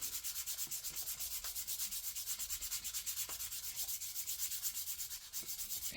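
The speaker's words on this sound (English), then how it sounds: "I use 240 sandpaper to remove remaining" Hand sanding of a CNC-carved wood piece with 240-grit sandpaper to strip leftover finish, a steady, close scratchy rubbing in a continuous back-and-forth rhythm with no talking.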